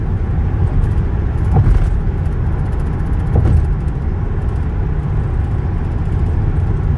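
A 2008 Chevrolet police interceptor rolls along the road with a steady low engine and tire rumble, broken by a couple of brief rattling knocks from the car's body.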